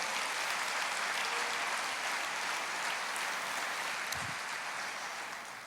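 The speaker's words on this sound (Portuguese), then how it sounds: "Você pode dar uma salva de palmas para o Senhor?" A church congregation claps together in sustained applause, a full, even roar of many hands that thins slightly toward the end, with no voices over it.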